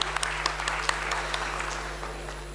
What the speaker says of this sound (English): Let us welcome ma'am with a big round of applause